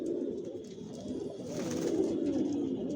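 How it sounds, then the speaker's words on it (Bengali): Original racing pigeons, imported foreign birds, coo in soft overlapping throaty rolls nearby, a continuous low burbling that swells slightly in the second half with no voices. "আর এগুলো সব বিদেশি কবুতর"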